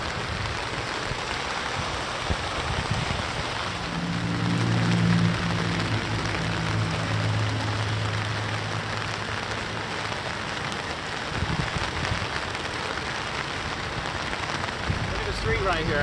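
Steady broadband rain hiss during a flood in Sun Valley, Los Angeles, continuous and moderately loud, with a low rumble and faint voices in the background.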